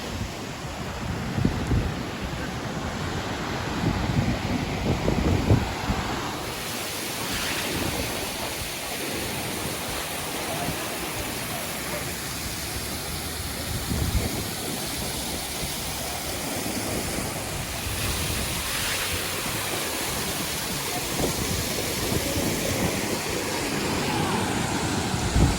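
Ocean waves wash steadily onto the beach below Alamere Falls, a continuous broadband roar with periodic swells and gusts of wind buffeting the microphone.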